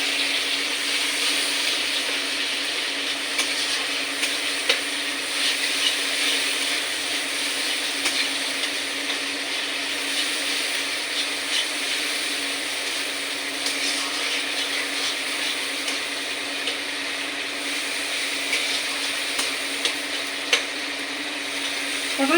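Pointed gourd (potol) frying in oil in a wok with tomato: a steady, even hiss of sizzling that runs without a break, moderately loud and close, with no talking.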